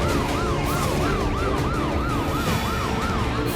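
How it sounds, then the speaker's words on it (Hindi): Ambulance sirens wail continuously in a wartime emergency scene in Israel, with a steady rising-and-falling cycle repeating about every third of a second, loud and close over heavy traffic and street noise. "एक के बाद एक एम्बुलेंस घायलों को अस्पताल पहुंचा रही है।"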